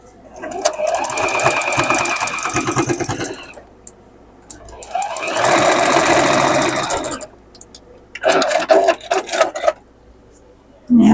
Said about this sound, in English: we're going to sew our center up here, side to side.